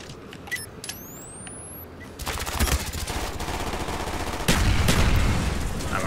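Grenade blasts and gunfire in a Call of Duty Black Ops multiplayer match, with faint shots at first, then louder bursts of firing and a heavy explosion boom near the end.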